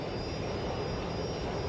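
A steady, loud airplane engine roar from the video game Watch Dogs: Legion holds on without a break, a continuous broadband drone with a faint high whine over it.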